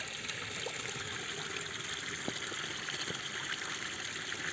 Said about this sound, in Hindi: महादेव के नीचे ले पानी के धार लगातार आवत है, नदिया में गिरत है